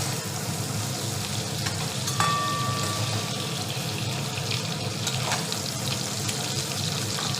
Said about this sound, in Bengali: এখানে হচ্ছে চিংড়ি মাছ ভাজা হচ্ছে